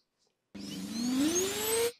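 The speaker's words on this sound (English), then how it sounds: "This is a vacuum cleaner." A household vacuum cleaner starts up abruptly and runs with a rising whine for about a second and a half, then cuts off, loud and close with nothing else heard.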